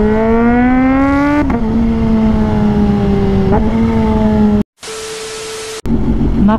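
Kawasaki ZH2 motorcycle engine revved hard, its steady loud whine rising in pitch, dipping and climbing again, then cutting out briefly before surging back near the microphone.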